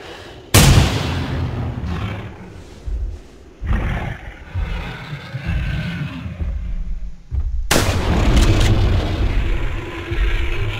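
Gunfire aimed at a T-Rex in the video game theHunter: Primal: two loud, sharp booming shots several seconds apart, with deep roaring and rumbling in between and after them.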